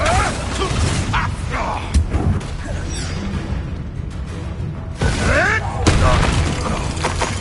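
Blasting-spell explosions in a wizard video game: loud booms with shattering debris hit near the start and again around the five-second mark, with crackling effects and rumble, while voices shout over the action.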